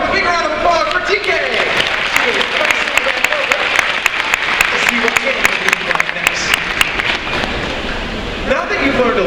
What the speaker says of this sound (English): Have a big round of applause for TK.